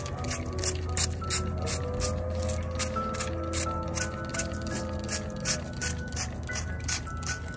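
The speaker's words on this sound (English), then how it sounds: "I'm going to go ahead and spritz these leaves now so that the leaves are" A hand-pumped spray bottle mists succulent leaves of an elephant bush, giving a rapid, regular series of short crisp spritzes, close and loud, with no voices.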